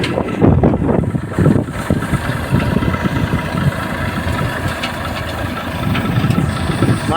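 Tractor engine running at a farm during black gram threshing, a close low rumbling drone with throbbing vibration that swells and eases throughout, loud and steady.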